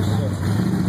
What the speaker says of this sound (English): The Deuce, of course, pulling out.